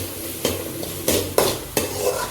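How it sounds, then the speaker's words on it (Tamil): Onions and ginger sautéing in a hot pan, a steady sizzle broken by four sharp scrapes and stirs of a utensil against the pan, close and clear. "இப்போ இந்த வெங்காயம் வந்து நல்லா வதங்கட்டும்."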